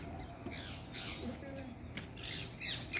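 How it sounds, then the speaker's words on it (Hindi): Peacocks near a large palace by Lake Pichola in Udaipur let out several short, harsh squawking calls, faint and somewhat distant against outdoor background noise. "काफी सारे मोर हैं यहाँ पर।"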